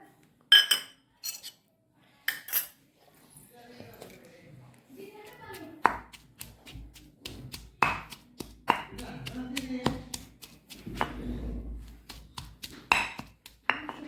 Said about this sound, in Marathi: आता बघा मी ह्याला वाटते खलबत्त्यात.